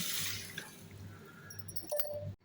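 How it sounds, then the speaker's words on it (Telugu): Water is poured from a tap over washed rice and thick flattened rice in a bowl, a brief close splashing and trickling that stops suddenly. "వాష్ చేసుకున్న వాటిలోకి మునిగేంతవరకు నీళ్లు పోసుకొని"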